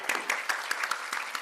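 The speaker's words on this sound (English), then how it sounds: "A huge round of applause for it." Applause from an audience at a college business plan competition, a short run of fairly sparse, distinct claps at close range, with no talking over it.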